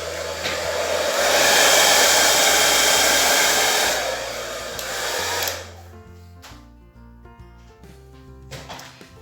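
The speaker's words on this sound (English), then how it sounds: "I think I'm going to use my hairdryer" A hair dryer blows loudly and steadily for several seconds over a fluid-art Dutch pour painting, then cuts off, leaving quieter clinks and soft handling noises.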